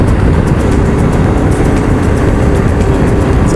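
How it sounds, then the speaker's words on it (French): Group of motorcycles overtaking on a small country road, a loud continuous engine roar with rhythmic pulsing surges as the bikes pass close by, with no talking. "Je viens de me faire doubler par un groupe de motards"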